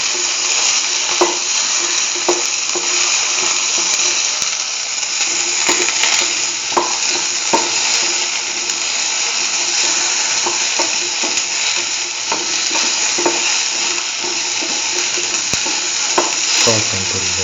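Shallot sizzling steadily in a hot pan for okra rice, a dense continuous fry with scattered clicks and scrapes of stirring throughout, loud and close with no talking.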